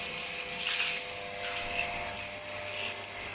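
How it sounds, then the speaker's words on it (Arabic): Steady rush of water spraying and splashing while a building's stair gate is washed at street level, continuous and fairly close with a faint pump-like hum beneath. "وطبعا بقى هغسل البوابه بالشكل ده كده."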